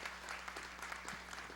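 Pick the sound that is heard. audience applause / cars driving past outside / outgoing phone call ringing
audience applause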